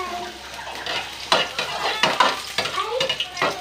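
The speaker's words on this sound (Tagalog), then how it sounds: "magigisa tayo ng bawang at saka sibuyas" Garlic and onion for pancit lomi sauté in a hot pan, giving a close, crackling sizzle. Repeated scraping strokes of a utensil pulse through it in an uneven rhythm.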